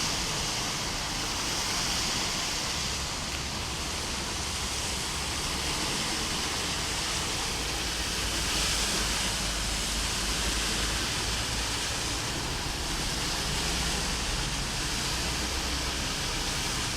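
Heavy rain and rushing water flooding the streets of Goiânia, Brazil, a loud, constant broadband roar that stays even throughout, with no voices.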